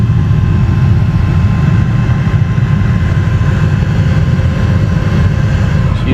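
A newly replaced blower motor in a 2007-2014 Chevy Tahoe runs steadily, giving a loud, continuous low rumbling whoosh of fan air that holds at an even level throughout with no talking.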